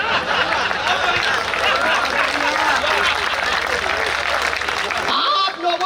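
A dense, sustained wash of audience applause and laughter fills a Hindi comedy poetry gathering, steady and loud before it cuts off near the end.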